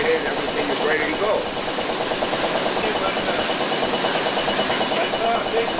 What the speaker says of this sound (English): turn up the fire and get up full steam and start the engine